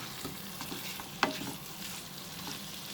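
Chicken roast mixture stirred in a hot pan, a steady close sizzle of frying with soft scraping strokes and one sharper clack of the spoon partway through.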